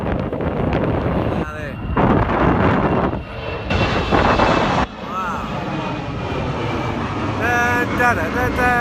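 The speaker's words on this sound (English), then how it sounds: "At the East London Airport, ready to watch the plane take off" A fixed-wing airplane takes off at London City Airport, heard from a clipper boat on the Thames: a steady broadband engine roar with wind buffeting the microphone, and people talking over it throughout.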